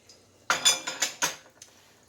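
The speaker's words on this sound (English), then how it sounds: "And then we will put it in the skillet." A few sharp clinks and knocks of cookware as an egg-coated piece of Spanish fried milk is set into a small skillet, about five quick metallic taps close by, then quiet.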